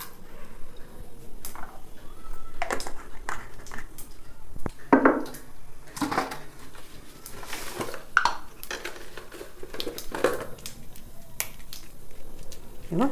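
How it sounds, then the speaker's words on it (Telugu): Mustard and other tempering seeds hit hot oil in a pan while making a red gram (kandi) pachadi, giving scattered sharp pops and crackles over a quiet background, with a few metallic clinks of utensils. "ఇక తాలింపు గింజలు వేసుకుందాం"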